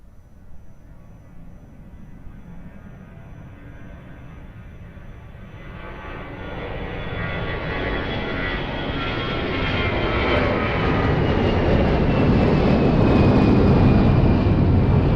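A Ryanair airliner lands on runway 02 at Lisbon Airport, its engine roar rising gradually from a distant rumble to a loud, broad drone as it nears and passes.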